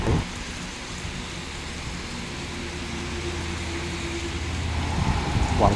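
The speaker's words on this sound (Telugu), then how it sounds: "వర్షం అయితే మాత్రం చాలా ఎక్కువగానే పడుతుంది సో తగ్గడం లేదు" Heavy rain pouring down in Visakhapatnam, a dense, unbroken roar of falling water with a low rumble underneath, growing slightly louder toward the end.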